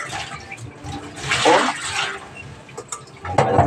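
Water rushes and splashes into a cooking pot for fish miso soup, a brief surging pour that swells and then tapers, close by with clinks and handling noises around it.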